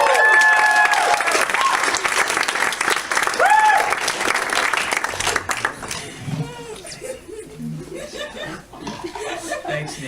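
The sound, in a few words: audience applause for a comedian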